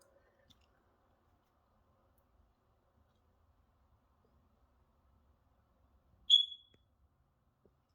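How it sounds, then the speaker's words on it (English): A BRK First Alert 9120B smoke alarm gives one short, sharp, high-pitched chirp in an otherwise quiet room, with a few faint clicks before it. "Okay, so I'm going to reconnect the battery and it should stop beeping."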